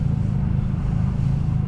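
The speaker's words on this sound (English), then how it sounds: "Somebody's got like a nice grumbly car." Deep, grumbly car engine rumbling steadily from a nearby car on the road along Historic Route 66 near Chicago, a continuous low drone with no talk over it.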